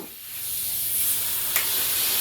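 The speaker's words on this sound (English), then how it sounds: "that should just come right off with the air gun and the wrench" Pneumatic air gun hissing steadily while removing an 18 mm nut on the rear trailing arm of a 2004-2008 Pontiac Grand Prix, a continuous close air rush with a brief sharp burst near the end.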